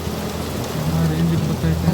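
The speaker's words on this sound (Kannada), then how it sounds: "ಮಳೆ ಅಂತೂ ನಿಲ್ತಾನೇ ಇಲ್ಲ ನೋಡಿ ಗಾಯ್ಸ್" Heavy, unrelenting rain pours down in a steady dense hiss, with a low rumble underneath.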